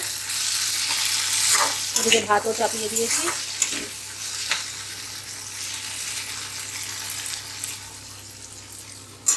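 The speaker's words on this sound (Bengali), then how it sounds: "এই যে ভেন্ডি ভাজাটা হচ্ছে" Steady sizzling of okra frying in a pan, close and continuous, with someone speaking briefly over it.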